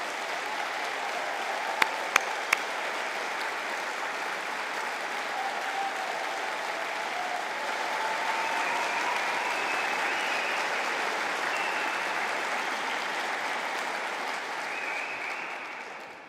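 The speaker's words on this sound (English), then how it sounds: "Could we have a round of applause for the class of 2025?" A large audience at a university graduation conferring ceremony applauds the graduating class, a long, even wash of clapping from many people that holds steady before tapering off.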